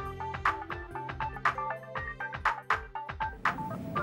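A phone ringtone plays a bouncy, repeating electronic melody of short tones, steady and fairly quiet, with no voices.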